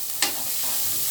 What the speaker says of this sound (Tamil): வெங்காயம் போட்டு நல்லா வதக்கிக்கணும்.